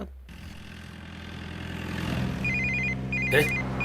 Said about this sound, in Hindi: बाजू में लगा फोन आ रहा है।